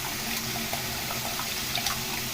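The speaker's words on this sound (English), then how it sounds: "then run some water and get it really good" Tap water runs steadily from a faucet through a disassembled airbrush being rinsed at a sink, a soft continuous splashing hiss with small drips throughout, no voices.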